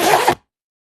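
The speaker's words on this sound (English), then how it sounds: "Zipper closing." A zipper pulled closed in one quick, close, rasping stroke lasting about a third of a second, then silence.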